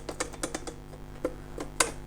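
Keys strike on a Princess 300 manual typewriter under repair, giving a quick irregular run of crisp clacks and one sharper final hit, close and with no talk.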